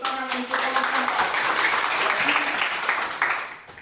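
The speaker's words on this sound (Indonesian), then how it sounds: "Ya, beri tepuk tangan untuk kelompok 4." Applause breaks out for a student group after a classroom presentation, a close burst of many hands clapping that holds steady for a few seconds, with a voice briefly heard under it.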